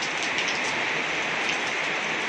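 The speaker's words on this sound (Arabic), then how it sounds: "المطره مطره جامده يعني، مش شويه شتا وخلاص" Heavy rain pours steadily onto a rooftop, a dense continuous hiss of drops hitting the surface at even loudness throughout, with no voices.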